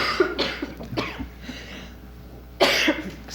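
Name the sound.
cough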